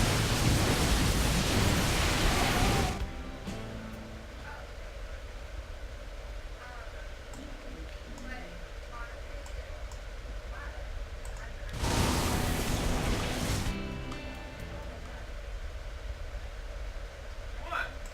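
A psionic storm in the StarCraft video game erupts in two loud, rushing bursts of crackling noise, one opening the moment and a second arriving several seconds later, with quieter game sounds in between.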